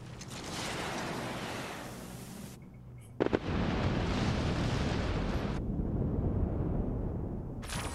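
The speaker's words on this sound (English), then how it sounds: "My word, that explosion was beautiful." A space battle explosion in Endless Space 2 arrives as sustained, roaring noisy bursts with a sharp crack midway, loud and close, broken by a short near-silent gap.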